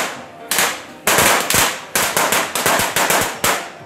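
Firecrackers go off in a Chinese New Year market in Thailand, a loud, close series of sharp cracks in irregular bursts, some rapid strings, over a background of market bustle.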